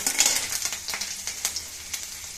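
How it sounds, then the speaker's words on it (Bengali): Five-spice tempering frying in hot oil while making a vegetarian spinach and lentil-dumpling curry, a close, steady sizzle broken by scattered sharp pops and crackles. "এখানে আমি 5 ফোড়ন দিলাম।"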